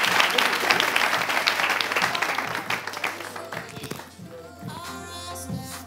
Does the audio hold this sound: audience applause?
yes